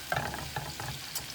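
Garlic and butter sizzle in a pan for shrimp, a soft steady frying hiss with a few small stirring scrapes, close and fairly quiet with no talking.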